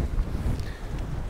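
Strong wind buffets the microphone at a windswept southernmost point, a steady low roaring rumble filling the whole stretch with no pauses.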